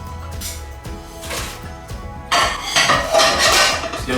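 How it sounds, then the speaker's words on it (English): Homemade dumplings stirred in a pot of boiling water, a utensil clinking and scraping against the pot's metal sides, at first light and intermittent, then a busier, louder stretch of clatter. "Just give them a bit of stir so they don't stick to the bottom of the pot."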